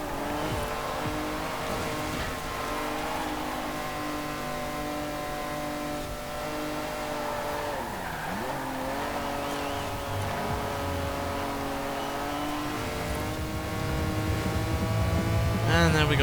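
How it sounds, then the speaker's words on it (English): A Nissan Skyline in a racing video game strains uphill, its engine holding a steady droning whine that briefly dips and recovers midway, then swells louder near the end. "And the Skyline is struggling to get up that hill."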